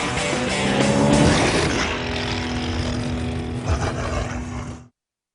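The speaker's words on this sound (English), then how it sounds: "The 469 horsepower E55 AMG. Feel the power of a Mercedes." A 469-horsepower Mercedes E55 AMG engine roars loudly, swelling into a powerful rush before settling into a steady drone with a sustained tone, then cutting off abruptly.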